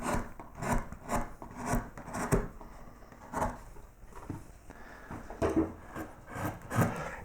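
Soft, intermittent scraping and slicing of a carving tool skimming ridges on a carved wooden swag of flowers, short close cuts arriving in irregular bursts with quiet gaps.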